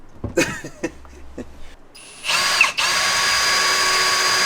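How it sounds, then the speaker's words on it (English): A power drill whirs to life inside a camper van and keeps running with a steady high-pitched motor whine, close by, after a few short mechanical clicks and rattles. "Doesn't stop drilling."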